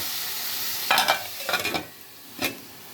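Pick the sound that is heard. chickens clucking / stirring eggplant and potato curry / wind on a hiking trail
stirring eggplant and potato curry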